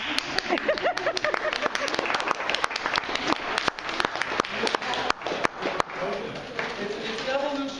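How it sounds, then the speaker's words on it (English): An audience at an evening art event breaks into applause, a dense wash of many hands clapping near and far, with voices talking and calling out over it. "let's clap"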